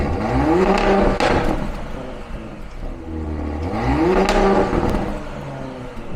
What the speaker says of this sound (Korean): 기본 순정의 스포츠 배기 시스템은 과연 어떤 식으로 들려졌는지 배기음 한번 들어보고